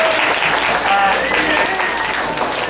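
Audience applauding the parents at an eighth-grade Israel trip sendoff, continuous crowd clapping at steady volume with voices audible through it.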